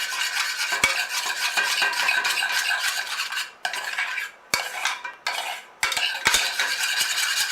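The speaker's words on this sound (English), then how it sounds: "Now you should have added your peanut butter to the chocolate and stir vigorously, scraping down the sides" Peanut butter and chocolate stirred hard in a saucepan, with a fast, rhythmic scrape of a utensil against the metal, brief clanks and short gaps, close and loud.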